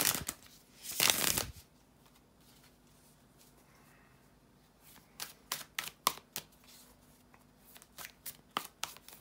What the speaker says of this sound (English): bear with me a couple of seconds here to shuffle the cards